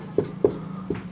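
Pen writing on paper during a geometry lesson, three short soft strokes or taps close by in a quiet room, with a faint steady hum beneath.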